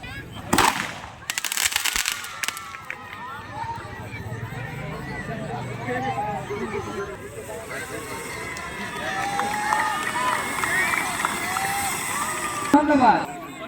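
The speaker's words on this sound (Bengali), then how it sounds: "এখন চলছে আতশবাজি।" Fireworks open a night game in a village, with sharp crackling bursts at the start and a second burst near the end. A busy outdoor crowd murmurs and voices chatter throughout.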